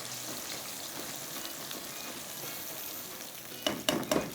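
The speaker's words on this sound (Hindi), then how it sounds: "उसी ऑयल के अंदर हम डाल देते हैं प्याज, ठीक है। प्याज को आपने थोड़ा सा फ्राई करना है।" Onions fry in cooking oil with a continuous, even sizzle, near and fairly loud, and a few quick clattering knocks of a utensil near the end.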